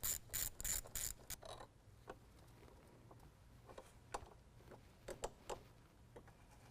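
A ratchet loosens the negative battery terminal on a 2015 Ford F-150. Quick ratcheting clicks come first, followed by scattered sharper clicks and taps. The sound is quiet and close, with no talking.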